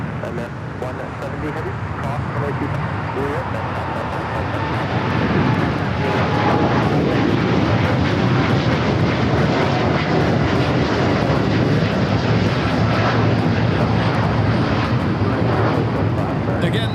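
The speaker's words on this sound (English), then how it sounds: "this is United Airlines Flight 39 taking off to Tokyo Haneda on the 787-10 Dreamliner" A United Airlines Boeing 787-10 Dreamliner takes off from LAX bound for Tokyo Haneda, its deep engine roar swelling after a few seconds and staying loud and close, with voices murmuring beneath.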